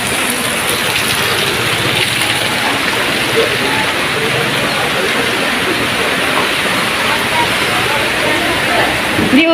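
Floodwater rushes through a town during rain, a loud, steady broadband roar of pouring water that fills the whole clip without letup.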